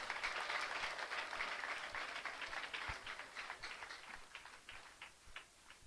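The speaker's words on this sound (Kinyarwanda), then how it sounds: "Komera Imana amashyi menshi" A church congregation applauding God at a service: continuous, fairly distant clapping that thins out toward the end, with individual claps more audible near the end.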